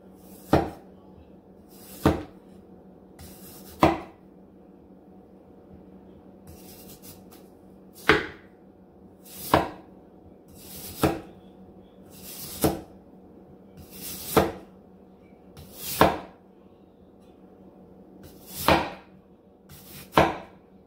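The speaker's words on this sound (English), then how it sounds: "Then I cut some potatoes" A handmade Serbian butcher's knife chops through potatoes on a board, a dozen crisp, sharp knocks spaced irregularly about one to two seconds apart, close and clear with no talking.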